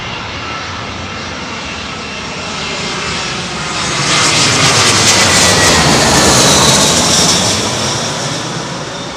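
An arriving airliner at London Heathrow Airport roars in on a blustery sunset approach, its engine rumble swelling loud as it passes overhead and then easing slightly, with wind noise throughout.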